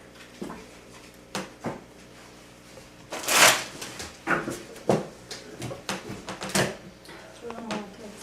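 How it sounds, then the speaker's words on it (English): Playing cards shuffled by hand in a series of short riffling bursts, one louder flurry in the middle, heard close up with people talking over and between the shuffles. "Shuffle them up, yeah, like a poker player."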